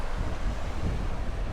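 Strong wind buffets the microphone on Tha Not beach on Koh Tao, Thailand, a constant close rumble with no voices.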